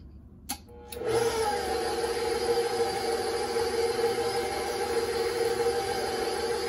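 A KitchenAid Pro 5 Plus stand mixer switches on after a short click and runs at a steady, loud, even whir, a constant motor hum with high whine that carries on alone to the end.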